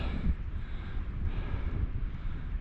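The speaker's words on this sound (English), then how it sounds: "There's a bit of a breeze" Wind blows across a summit at a wild camp, a soft gusty rumble buffeting the microphone, fairly faint and continuous.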